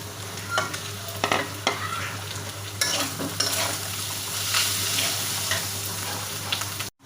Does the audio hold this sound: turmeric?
yes